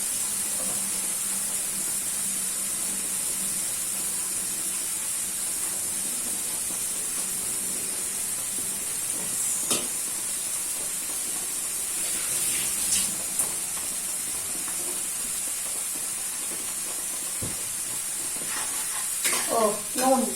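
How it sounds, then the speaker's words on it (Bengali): Spices and salt fry in a pan with a constant steamy hiss under a voice talking, close and steady, with a few sharper crackles and clinks near the end. "দিয়ে একটু ভালো করে মশলাটাকে কষবো, কষে কষে মোটামুটি একটু কালারটা চেঞ্জ হবে"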